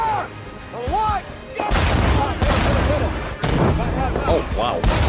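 Heavy gunfire and booming tank cannon blasts from a World War II battle scene in the film Fury, dense and loud, with explosions crashing through; voices shout and talk amid the barrage.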